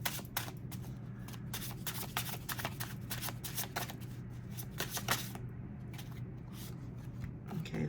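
Oracle cards being shuffled by hand, a close, soft run of rapid riffling flicks and papery slides in quick bursts, with a quieter pause near the end and no speech.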